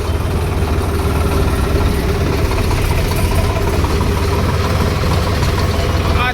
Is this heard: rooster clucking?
no